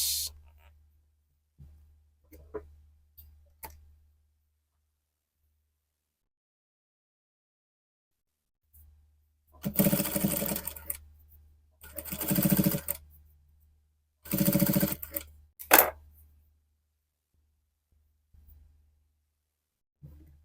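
A sewing machine stitches a baby dress in several short close bursts of whirring, with quiet pauses in between.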